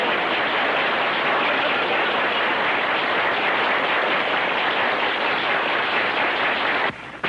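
A live audience at a Christmas Eve show breaks into loud, sustained applause after a comedian's set, a dense even clapping that holds for several seconds before cutting off briefly near the end.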